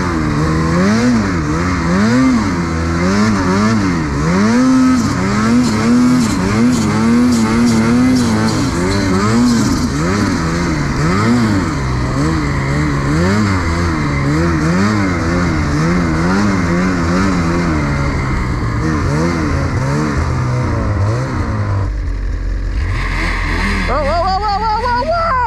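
Snowmobile engines drone and rev through deep drifts, a loud close wavering motor whine rising and falling continuously, with people talking over it.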